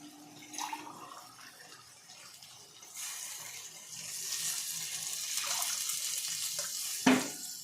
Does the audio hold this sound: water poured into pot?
yes